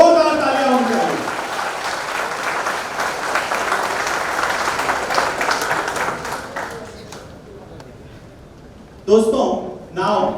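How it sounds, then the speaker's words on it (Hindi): Loud audience applause at an event honouring a father leading an auto rally, sustained clapping mixed with crowd noise that fades toward the end before a voice briefly speaks over it. "हाथ उठाकर हवा में जोरदार तालियां होनी चाहिए"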